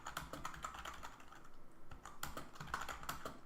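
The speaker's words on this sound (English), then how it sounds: "I'm typing in the Vim text editor." Fast typing on a computer keyboard while text is entered in the Vim editor, with a busy run of crisp, close key clicks and a brief lull midway, heard alone and fairly quiet.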